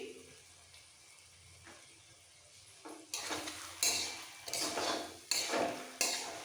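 Cauliflower stalk curry with green chillies and coriander is stirred in a metal pan on a gas stove, faint at first, then loud, repeated scraping strokes of a spatula against the pan with a light sizzle.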